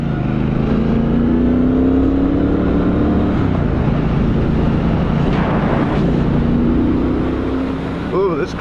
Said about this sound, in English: this gets up and moves pretty good. And the motor sounds good. 1200cc motor, parallel twin